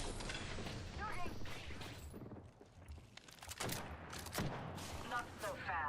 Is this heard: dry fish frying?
no